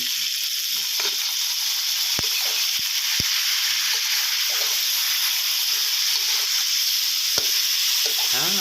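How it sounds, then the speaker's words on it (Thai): Pork belly stir-fried in a wok with dark sweet soy sauce: loud continuous sizzling and hissing with steam, broken by sharp scrapes and clicks of a spatula against the pan. "ใส่ลงไปผัดเลยนะครับ"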